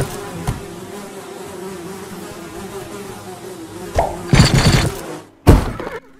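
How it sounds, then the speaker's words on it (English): Swarming bees attack in the Die With Glory video game, a steady droning buzz throughout with a couple of sharp thuds and a loud crashing burst near the end. "And then bees are going to attack old Dewey McGooey right here."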